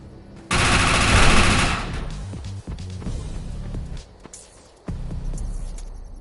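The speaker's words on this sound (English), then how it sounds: "Those guns are gonna keep firing until we shut down the generator" Gun turrets in Defiance 2050 open up in a loud, dense burst of rapid automatic fire, then scattered thuds and impacts follow, with another heavy rumble of firing near the end.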